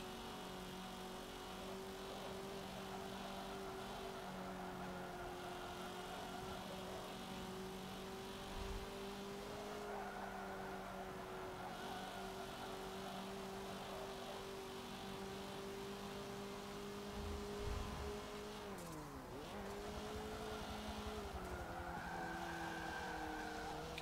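A Mitsubishi Eclipse race car in Forza Motorsport 7 drones at sustained engine pitch, shifting near the end with a dip and climb, over steady road and tire noise with brief squeals, close and loud throughout.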